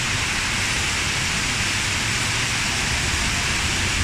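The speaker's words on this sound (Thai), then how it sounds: "ฝนตกแล้ว" Rain falls steadily and densely, a loud even hiss of drops with no pauses across the few seconds.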